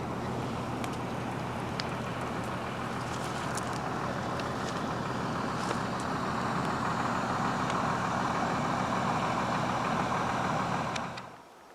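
A truck engine runs steadily at idle near a riverside house, a continuous low rumble with a faint knocking texture and some wind, holding constant for about eleven seconds before cutting off abruptly.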